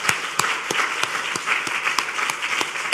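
A congregation applauds during a Korean church Sunday worship service celebrating its new sanctuary, a steady, dense round of clapping from many hands with a few sharper claps standing out, loud and close.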